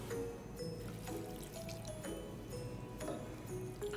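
A small splash of water poured into a pan of stewing venison, a soft trickling and squishing under the steady bubble and hiss of the simmering stew, close up with no talk.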